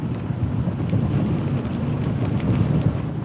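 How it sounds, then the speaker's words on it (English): Strong wind gust blowing during a severe thunderstorm, a steady low roaring rush with buffeting against the microphone, loud and continuous throughout. "Here's a good wind gust."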